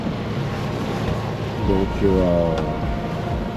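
A sailboat motors under engine into a headwind over light waves, with a steady broadband rumble of engine, wind and water throughout while someone talks briefly.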